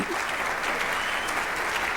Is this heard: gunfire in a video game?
no